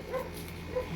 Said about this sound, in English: y'all hear the puppies barking